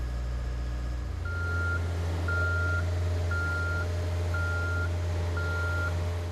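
A JLG boom lift drives with its motion alarm beeping in a steady, evenly spaced series of five loud tones over a constant low engine hum.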